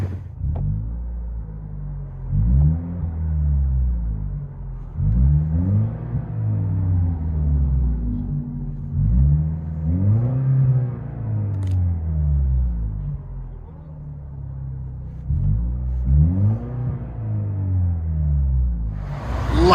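Cabin view of a 2016 Lexus IS 200t with a 2.0L turbo engine and muffler delete: a loud, steady low rumble that swells and falls in repeated rev cycles, with no talking.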